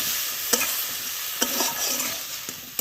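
Dried fish curry is sautéed in a pan, a steady close sizzle with a spoon scraping and knocking against the pan a few times, no talking.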